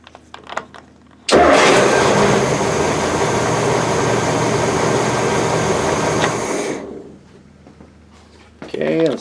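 The engine of a 1968 Chris-Craft Commander boat cranks and catches, then roars loud and steady for several seconds before dying down, with faint background noises around it.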